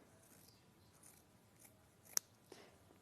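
Small ergonomic scissors cut through four layers of fabric: a quiet sequence of soft snips, one crisp closing snap standing out, close and alone.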